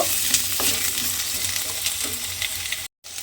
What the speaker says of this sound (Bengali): সেই আলুটা আমি এর মধ্যে তেলের মধ্যে দিয়ে দিলাম। দিয়ে এবার আলুটাকে আমি একটু হালকা করে ভেজে নেব।